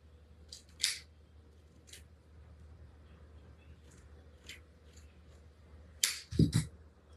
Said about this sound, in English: I'm going to trim this up